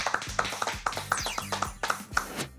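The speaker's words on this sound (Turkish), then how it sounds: "Onları ben de alkışlamak istiyorum." Applause in a Turkish game show studio: a handful of sharp, evenly spaced claps ring out alone at moderate volume, sounding like a small group or a single person clapping.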